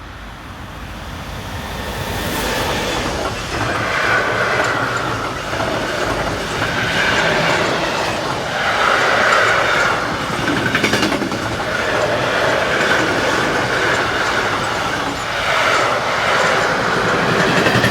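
DB class 185 electric locomotive 185284 hauling a train north past the camera on the busy German mainline between Fulda and Bad Hersfeld, a steady loud rumble with rhythmic clacking wheels and brief squeals throughout.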